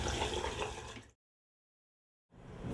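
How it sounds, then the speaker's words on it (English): Water from a bucket is tipped into a drain, pouring and gurgling for about a second, then falling silent before a second splashing pour resumes. "You can empty your bucket right into a drain."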